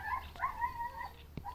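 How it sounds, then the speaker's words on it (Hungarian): Dogs on a Greek roadside during a bike tour, heard as a few whining, yelping calls with short sharp bursts, moderately close, no talking over them. "Mi az atya úristen ez? Jönnek a kutyák?"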